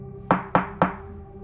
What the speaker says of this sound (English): A second later, loud knocking.